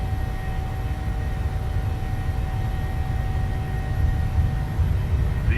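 PMDG 737 jet engines roaring on the takeoff roll in Microsoft Flight Simulator, a steady, loud broadband rumble with a faint tonal whine running continuously, no voices.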